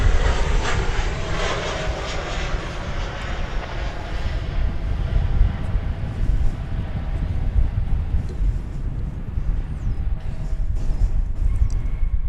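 An airliner touching down at DFW airport after a flight from the Pacific Northwest, heard as a loud continuous jet engine roar close by that slowly fades and thins out, with no talk.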